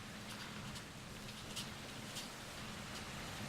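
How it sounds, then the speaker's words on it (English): Steady rain falling in the video game Minecraft, an even hissing patter that continues without break at moderate level, with no talk. "Oh, and the sun is rising and the rain is stopping."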